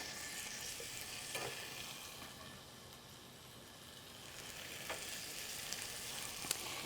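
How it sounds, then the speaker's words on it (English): Tomato slices and eggplant sizzle steadily on a hot grill, a soft continuous crackle with faint stirring clicks, quiet and close with no talking. "We'll toss those on the grill right next to the eggplant."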